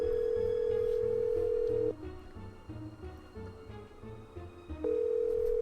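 A phone call is placed in the Nancy Drew video game Message in a Haunted Mansion: a steady electronic dial tone holds, breaks off into quieter line noise and brief tones, then resumes, all fairly soft with no talking.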